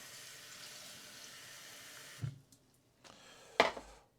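Water pours from a tap in a steady hiss for about two seconds, then stops, followed by a brief splash, as it is measured onto oats for an overnight oats recipe.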